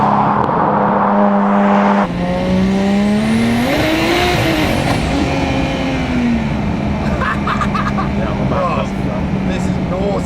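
A 1000hp rear-wheel-drive BMW 140i with a B58 engine accelerating hard from inside the cabin, a loud steady engine drone rising in pitch through the gears, with people talking over it.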